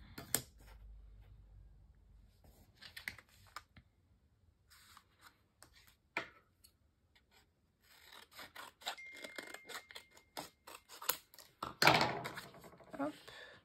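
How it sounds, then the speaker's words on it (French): Quiet, intermittent rasping and snipping of paper being trimmed and handled close by for an Artemio Mini Happy Cut die-cutting machine, with scattered scrapes and soft rustles between pauses. "je vais devoir recouper mon papier"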